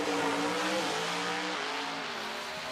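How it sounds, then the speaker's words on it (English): A Pat Musey Racing 632 cubic inch drag racing engine roars at full throttle at a drag strip, a loud, continuous, rasping blare that slowly fades as it runs through the gears. "Get to hear the Pat Musey Racing engines, 632 cubic inch mill."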